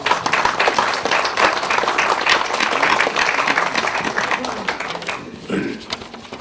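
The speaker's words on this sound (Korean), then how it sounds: "원내대표단에서 더 고생을 좀 해주시기를 기대하는 마음으로 박수를 좀 보내주시기 바랍니다" Sustained applause from lawmakers at a Democratic Party caucus meeting, steady dense clapping filling the room for several seconds before tapering off as a voice begins to speak.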